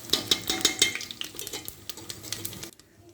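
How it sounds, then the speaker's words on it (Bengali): Dried red chillies with panch phoron and cumin frying in hot oil as a spoon stirs and scrapes the pan, with steady sizzle, clinks of metal and close, rhythmic scraping that stops abruptly near the end. "তারপরে দেখো শুকনো লঙ্কা। তো এটাকে একটু ভাজা ভাজা করে নেব।"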